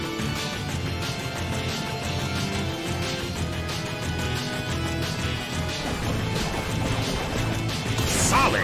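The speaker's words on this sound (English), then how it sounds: "A smashing blow." A crashing attack hit lands in the Pokémon Battle Revolution video game, a sharp smashing impact near the end that rises above steady in-game battle music.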